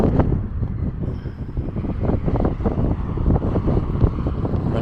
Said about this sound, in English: Right now it's super windy.